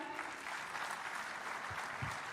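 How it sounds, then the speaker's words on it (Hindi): Steady applause from the audience at a large public gathering continues evenly throughout, with no voices over it. "जोरदार तालियां अपने लिए बजाइए।"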